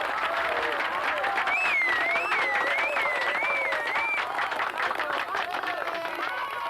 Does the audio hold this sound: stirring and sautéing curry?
no